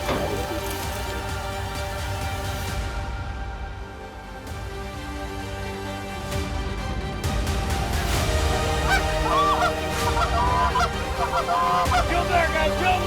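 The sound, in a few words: Canada geese honking during a hunt in a snowstorm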